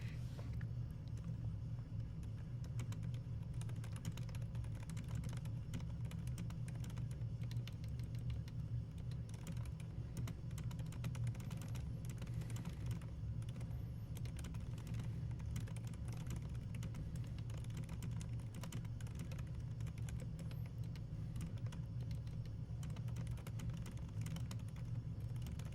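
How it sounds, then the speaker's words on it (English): Faint, irregular clicking of keys on a computer keyboard during a live hacking session, nearly buried under a steady low rumbling hum. "You guys can watch what I'm typing."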